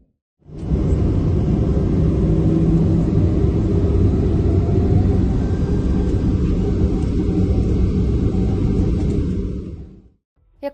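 Cargo plane with a burning engine taking off from an airport at Ulan-Ude: a loud, steady broadband roar that swells in quickly, holds for about nine seconds and fades away.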